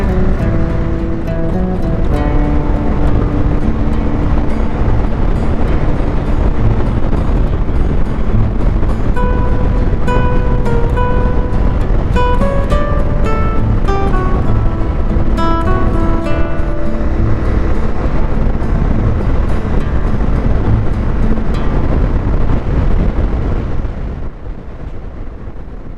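Motorbike riding a dirt road behind a group of KTMs, loud continuous wind buffeting and engine rumble with shifting tonal whine, fading somewhat at the very end.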